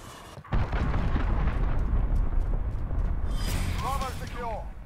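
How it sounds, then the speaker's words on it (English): A cruise missile explodes in Call of Duty Modern Warfare Domination multiplayer: a heavy, sustained rumbling blast holds loud for several seconds, with chirping effects and a voice over it near the end. "Enemy cruise missile incoming."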